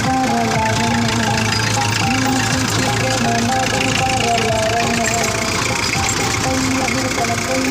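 A farm vehicle's engine runs loudly and steadily close by with a rough, knocking idle, as voices talk over it during paddy sowing.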